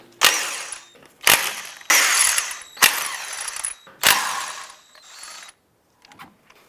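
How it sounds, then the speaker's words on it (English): Lug nuts on a 2005-2009 Subaru Outback being loosened with a 19mm socket on a ratchet, loud close bursts of rapid ratchet clicking repeated about five times with short pauses between. "Using a 19mm socket, we'll go ahead and remove the lug nuts."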